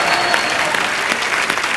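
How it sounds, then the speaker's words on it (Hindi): Dense studio audience applause at an Indian comedy talk show, a steady wash of many hands clapping, loud and continuous throughout. "प्लीज आप लोग तालियां बजा के इनका हौसला बढ़ाइए"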